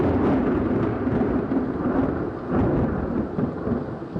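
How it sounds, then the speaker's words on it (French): Deep, rumbling thunder from a lightning strike rolls on continuously, loud and close, with rain falling steadily underneath and no voices. "cette espèce de bruit sourd que l'on va entendre lorsqu'un éclair tombe"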